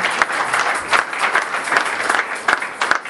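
A congregation at a wedding service bursts into a short round of loud, dense applause, many hands clapping together close by for a few seconds.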